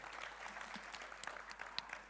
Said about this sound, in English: applause for Radio Savior